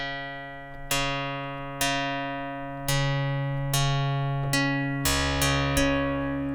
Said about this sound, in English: So if I start to turn up the volume on VCO1